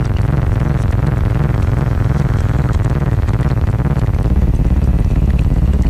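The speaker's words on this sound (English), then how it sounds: "Trying to make a sci-fi rumble, like a rumbling engine, kind of idling." A fast-running cassette tape loop produces a sci-fi rumble like an idling engine, a loud continuous low throb with a steady pulsing rhythm and no pauses.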